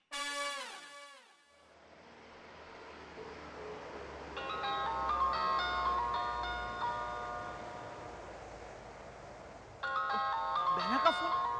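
A phone ringtone plays a repeating electronic melody, loud and clear for several seconds, pauses briefly, then starts again, over faint room noise after a short burst of speech at the start.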